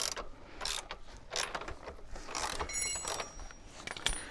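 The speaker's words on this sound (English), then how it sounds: "loosen off the 27mm nut on the left hand side" Wrench loosening the 27mm nut on the left side of a Surron Ultra electric dirt bike's rear axle: a few short metallic clicks, ratcheting scrapes and light clanks, close and fairly quiet, with no talking.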